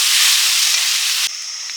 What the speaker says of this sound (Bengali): শাকটা ভেজে নিচ্ছি এই শুকনো লঙ্কা পেঁয়াজ শুকনো পেঁয়াজ আর পাঁচ ফোড়ন দিয়ে ভেজে নিয়ে